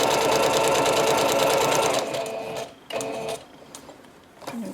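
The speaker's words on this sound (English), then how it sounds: "let's see if we can do a little bit of straight stitch" A sewing machine runs a straight stitch through a paper bag, its rapid, even mechanical chatter close and loud for about two seconds, then breaking into short, uneven bursts with brief pauses.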